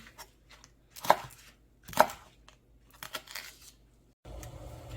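A knife chops through a crisp green onion on a cutting board: two sharp, distinct cuts followed by a few lighter taps, close and clear.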